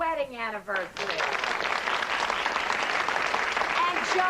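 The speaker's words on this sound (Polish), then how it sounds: "Proszę o oklaski dla Sama i Aidy Meriwether, którzy świętują swoje złote gody." An audience applauds a couple celebrating their golden wedding anniversary. A voice speaks briefly at the start, then dense, loud, sustained clapping fills the rest.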